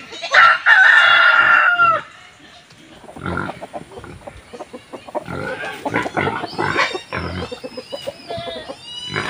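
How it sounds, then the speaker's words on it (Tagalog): A rooster crows loudly at the start, followed by chickens clucking and murmuring nearby, with a voice faintly in the background. "bigyan din natin yung ating manok"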